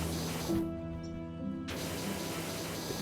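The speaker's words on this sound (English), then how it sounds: "If in doubt, give it a turbo nozzle blast." A pressure washer in the Powerwash Simulator video game blasts a broad, steady hissing spray that stops for about a second and then resumes.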